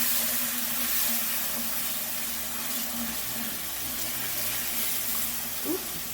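Hot water pours into a gravy pan as a steady, close hiss and splash of running liquid, fairly constant throughout, with a small clink near the end.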